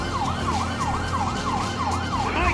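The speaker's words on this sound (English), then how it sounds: "I don't think they can hear the sirens." Emergency vehicle siren in the video game Grand Theft Auto V, a steady wailing yelp that rises and falls in quick regular sweeps over a continuous engine rumble.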